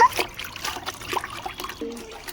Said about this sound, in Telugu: చెల్లి వాటర్ పోస్తుంది